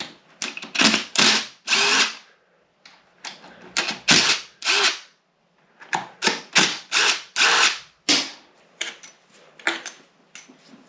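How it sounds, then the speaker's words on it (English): A ratchet or power driver works slave cylinder bolts out of a Honda VFR800 clutch, sounding in sharp repeated bursts of whirring and clicking, loud and close, with brief pauses between runs. "So I'm just going to take the 3 bolts out and pull the slave cylinder out."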